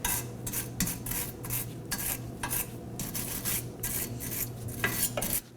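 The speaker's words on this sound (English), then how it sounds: "Use a wire brush to clean any rust away." A wire brush scrubs rust off the rear lower control arm mount on a 2015-2023 Nissan Maxima subframe, giving quick repeated scratchy strokes in an uneven rhythm, close and fairly loud.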